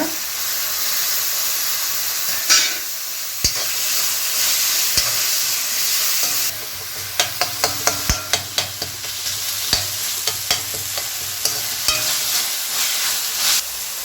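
Tomato stir-fried in a pan for prawn gravy hisses and sizzles steadily, while a utensil clatters and scrapes against the pan in bursts of sharp taps.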